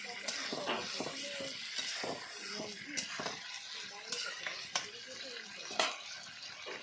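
Desi chicken being braised on a clay stove with fried potatoes added, frying and sizzling steadily at moderate volume with intermittent stirring scrapes and clanks throughout.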